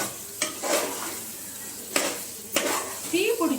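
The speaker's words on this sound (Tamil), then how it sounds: "நல்லா கலரி விட்டுக்கலாம்" Chicken biryani masala stirred in a pot, a spoon scraping and clinking against the metal in a few sharp strokes over a soft sizzle, with a faint voice now and then.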